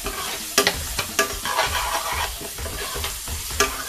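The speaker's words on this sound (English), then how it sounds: "And we're going to brown our rice." Rice browns in a frying pan with minced garlic, sizzling steadily and close, with repeated scraping stirs of a utensil across the pan.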